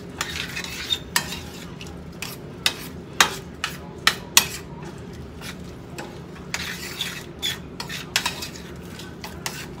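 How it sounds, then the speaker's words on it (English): Cream sauce for shrimp and spinach pasta stirred in a pan, with repeated sharp clinks and scrapes of a utensil against the metal over a soft simmering sizzle, close up. "Go ahead and stir that up."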